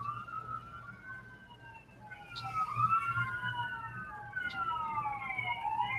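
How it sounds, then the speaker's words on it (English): An emergency vehicle siren wails outside, its rising and falling tones sweeping steadily at moderate distance over a low background hum, with no voices. "Just sending love to whoever that siren is for."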